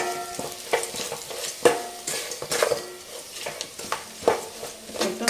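Stirring coriander powder and biryani masala into frying onions for kuska biryani: a close sizzle under repeated scraping strokes and clinks of a utensil against the pan, with no voice.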